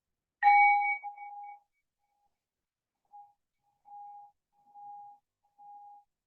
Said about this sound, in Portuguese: Eu vou tocar o sino novamente e com os olhos fechados, você inspira ao longo do som desse sino